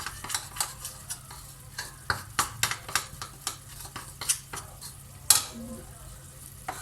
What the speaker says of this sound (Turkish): şöyle sosumu güzelce çırpıcıyla çırptım